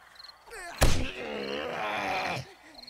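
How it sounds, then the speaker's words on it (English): A zombie in the survival game 7 Days To Die lets out one drawn-out, guttural groan, loud and close, beginning with a heavy thud. "I know I heard a zombie."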